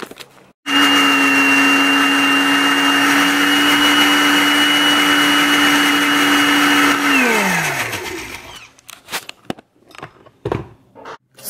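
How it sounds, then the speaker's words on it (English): A blender whirs loudly and steadily for about seven seconds, blending a garlic clove and tomato, then winds down as the motor stops, followed by faint scattered handling sounds. "I'm going to completely blend these two"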